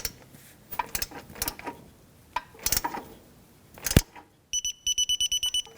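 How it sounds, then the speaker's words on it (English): A torque wrench tightens a dust-shield bolt to 13 foot-pounds on a 2007-2017 Jeep Patriot 2.4L, with several close ratcheting clicks and metallic knocks followed by a rapid burst of sharp, evenly spaced clicks, no talking. "Let's get our torque wrench."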